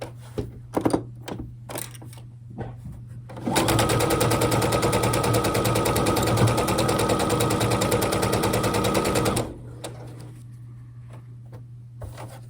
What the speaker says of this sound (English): So let's get that sewn together, and then we'll reshape, remeasure, and go from there.